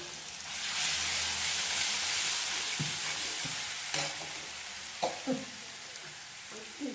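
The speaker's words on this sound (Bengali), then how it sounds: "কড়াইতে ছেড়ে দিলাম মশলাটা।" Spice paste with onion paste sizzles loudly as it hits hot oil in a kadai, for a lote fish and gourd-leaf dish, then settles into frying hiss broken by scraping stirs and clinks toward the end.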